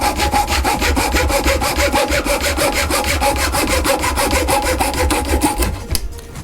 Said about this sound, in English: hold it securely in place at this end, take junior hacksaw